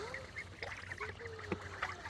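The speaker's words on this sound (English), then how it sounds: "This is the very friendly Khaki Campbell." A Khaki Campbell duck gives a few soft quacks and calls at close range outdoors near water, with other geese and ducks around and faint background activity.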